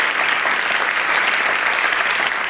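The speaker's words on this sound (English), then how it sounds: "Please welcome, with an applause at home that even your neighbors can hear" A dense, continuous wash of applause from an audience welcoming performers at a reporter slam event, loud and sustained without a break.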